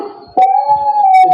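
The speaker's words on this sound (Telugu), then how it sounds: "జప్పున ఫోన్ తెరిచి అలెక్సా కుత్తేకి ఆవాజ్ నికాలో." A dog barking and howling sound played through an Alexa smart speaker, a short low murmur followed by a loud, sustained tonal howl-like bark that holds steady to the end.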